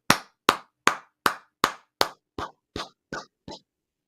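Ten sharp, evenly spaced hand claps on a sports betting talk show, loud and close, fading slightly toward the end and heard alone with no voices.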